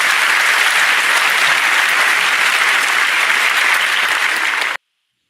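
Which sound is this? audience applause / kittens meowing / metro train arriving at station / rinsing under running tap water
audience applause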